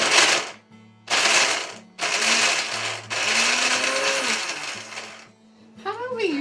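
A blender pulsing through fruit and nut parfait ingredients, with several loud whirring bursts of one to two seconds separated by short pauses, close by.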